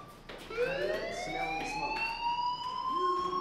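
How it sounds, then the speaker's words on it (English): A fire alarm rings in the Life is Strange video game, a steady rising electronic wail with layered tones, sustained and fairly loud against faint background sound. "do you hear that fire alarm?"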